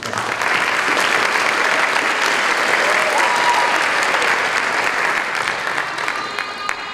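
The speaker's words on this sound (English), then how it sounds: "Let's give them one more round of applause." A high school awards assembly audience gives a long, loud round of applause, a dense, steady roar of many hands clapping in a large hall that eases slightly near the close.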